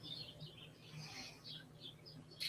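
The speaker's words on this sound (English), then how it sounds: "Sounds like the birds are having at it." Faint birds chirping in the distance, a scatter of thin high tweets over a low steady background hum.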